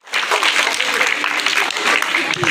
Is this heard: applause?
yes